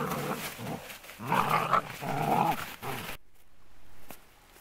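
Two pet dogs, one a hunting pointer, play-fight with repeated close growls and snarling vocal bursts, then a short quieter stretch with a faint sound near the end.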